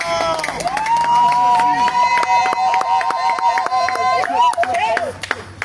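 A church congregation at a baptism service claps and cheers loudly for a newly baptised woman, with steady clapping under high sustained ululating cries and voices.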